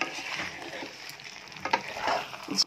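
Masala being sautéed in a pan for a duck egg and soya chunk gravy, a steady close sizzle and frying hiss with occasional stirring scrapes and small spatters.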